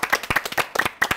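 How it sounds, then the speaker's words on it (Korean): A brief burst of lively hand clapping from a small studio audience on a screen golf show, dense and close, with no talk over it. "박수!"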